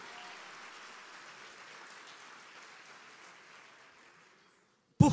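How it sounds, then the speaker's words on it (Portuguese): Congregation clapping during a church service: a soft, dense spread of applause that gradually fades to silence, followed by a sudden loud burst at the very end. "Pode aplaudir a ele."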